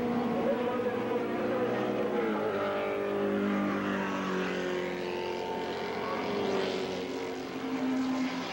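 Classic race cars racing at the Wallerfield circuit in Trinidad, engine roar rising and falling with shifting pitch as cars pass, steady and moderately distant, with a commentator talking over it.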